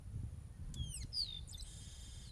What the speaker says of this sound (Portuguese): A gente escuta ainda o canto dos pássaros.